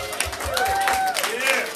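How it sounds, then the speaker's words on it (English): An audience at an elders' question-and-answer session claps steadily with a dense, even wash of applause, and people are talking and calling out over it. "please give our elders a round of applause"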